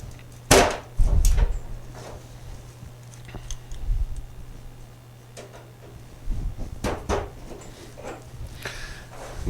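Tacks are hammered into a door panel on a Willys station wagon, a few sharp separate knocks spread over several seconds with quieter handling noise between, close by and with no talk.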